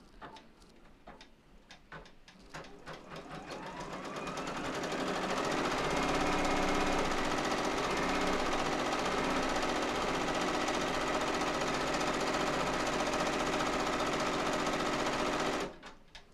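An embroidery machine runs a tack down stitch for an in-the-hoop tooth fairy pillow design, a loud steady whirring and rapid stitching hum that builds over the first few seconds and then holds constant before stopping abruptly near the end.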